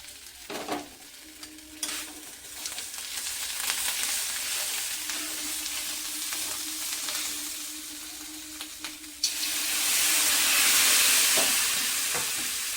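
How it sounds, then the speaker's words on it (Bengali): Ginger and green chili paste frying with ground turmeric, coriander and cumin in a pan, a steady close sizzle with stirring scrapes throughout, growing louder and hissier toward the end. "আর একটু হলুদ গুঁড়ো, ধনে গুঁড়ো, জিরে গুঁড়ো দিয়ে এটা একটু ভেজে ভেজে নেব।"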